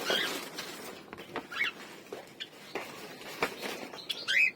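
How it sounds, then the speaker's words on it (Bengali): Pet cockatiels in a home aviary give a few faint, scattered chirps and squeaks, with soft rustling and pattering of movement between the calls. "এই যে আমার ককাটেল গুলো"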